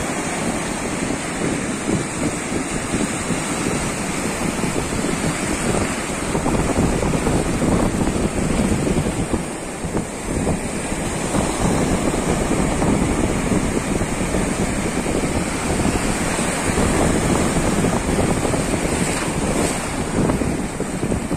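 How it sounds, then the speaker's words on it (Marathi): Foaming sea waves roll onto the shore near Jaigad in a steady, loud, continuous roar, with heavy wind buffeting close over the surf throughout. "समुद्र लाटा बघा"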